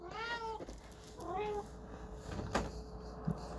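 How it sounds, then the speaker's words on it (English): A house cat meows twice near the start in short, tonal calls, followed by quiet room noise and a couple of faint knocks. "I had to pause to let my cat out of my room"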